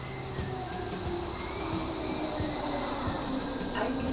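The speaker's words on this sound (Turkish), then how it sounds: "Evet trenimiz de geliyor." An S-Bahn train in Berlin rumbles into a station steadily with a constant low hum and faint wheel noise on the rails, at moderate distance, with no talking.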